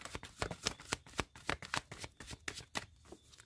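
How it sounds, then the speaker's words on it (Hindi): A deck of tarot cards being shuffled by hand, a rapid rhythmic series of crisp riffling flutters and slaps, close and clear, with no talking. "last shuffle"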